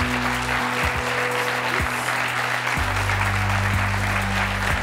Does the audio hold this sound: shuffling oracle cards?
no